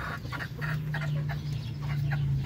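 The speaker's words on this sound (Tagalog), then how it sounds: "Tingnan mo mga Pinoy, yung lalaki ng mga hen namin dito tsaka mga rooster oh." Large hens and roosters clucking nearby in a continuous flock chorus, with repeated short clucks over a steady low murmur from the birds throughout.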